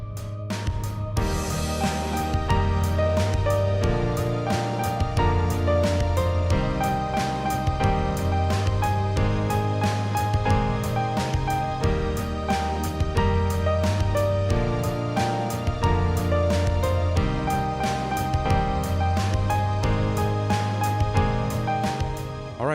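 Solo piano plays the lively chorus of a song in an intermediate arrangement, with a steady bass pulse and bright melody on top, continuous and full throughout.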